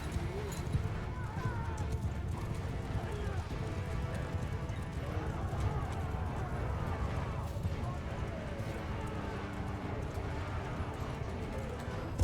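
Several horses gallop in a Mount & Blade II Bannerlord battle, a steady rumbling clatter of hooves at moderate distance running throughout, with a whinny or two and voices talking over it.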